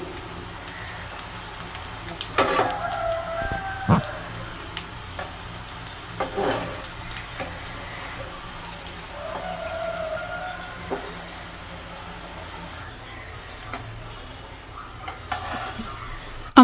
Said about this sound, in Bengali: ঠিক একইভাবে ছোটগুলো ভেজে নিচ্ছি।